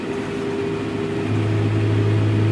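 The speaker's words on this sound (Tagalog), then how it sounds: "Binata ko na nagtra-tractor ng taniman namin ng sibuyas." A tractor with a power harrow drones steadily while working an onion field in Hokkaido, a continuous close engine hum that deepens and strengthens partway through.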